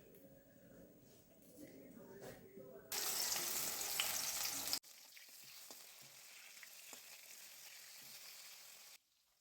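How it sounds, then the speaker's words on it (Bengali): Katla fish pieces fry in oil, heard as a quiet background crackle that jumps to a loud, close sizzle for a couple of seconds before settling back to soft spitting. A voice is faintly present in the quieter stretch. "মাছটি ভেজে তারপরে সর্ষে বাটা দিয়ে রান্না করবো আজকে"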